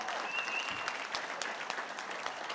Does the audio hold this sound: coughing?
no